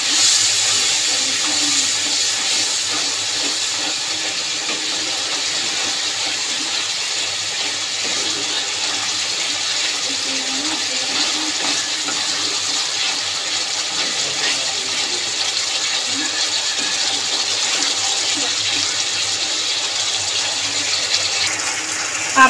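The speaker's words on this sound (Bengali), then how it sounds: "এবার আমি জল দিয়ে দেবো। জল দিয়ে মশলাটা কিছুক্ষণ কষে নেব।" Water hits frying masala in a pan for a potato paneer curry, producing a loud, steady rushing hiss that holds evenly for a long stretch, close and without speech.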